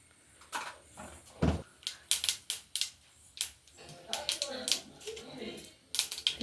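Mustard seeds splutter in hot oil while a lemon pickle is being made, giving irregular sharp pops and crackles close by, some in quick clusters.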